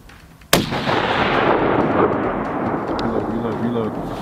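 A single sharp rifle shot cracks out during a Barbary sheep hunt in New Mexico, loud and close, then rolls into a long booming echo across open country.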